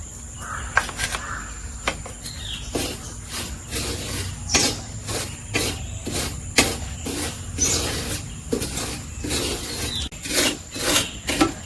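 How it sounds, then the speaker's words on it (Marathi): Dry fine semolina roasting in a pan, stirred so it gives a steady run of soft scratchy rasps in an uneven rhythm, close and quiet, with no voices. "बारीक रवो मी घालतले ना तो आधी सुको थोडं भाजून घेतोय"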